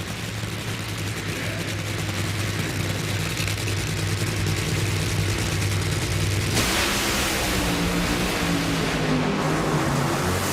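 Top Fuel Funny Car drag race at the Summit Racing Nationals in Norwalk, Ohio, Chad Head against Alexis DeJoria: a continuous loud, harsh engine roar filling the whole span, its tone shifting sharply partway through as the cars pass.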